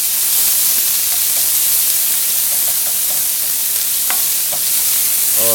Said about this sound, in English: I'm going to continue to saute this till it browns up